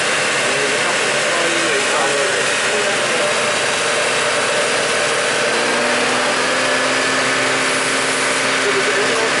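A Chevy Trailblazer engine runs steadily, a dense, noisy mechanical drone heard up close that stays fairly constant throughout, with a faint shift in pitch toward the end.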